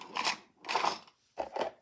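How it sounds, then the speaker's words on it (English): A sewing stitch being torn out of a rice tote bag, heard as three short, close ripping bursts separated by brief pauses. "I'm going to tear that stitch out."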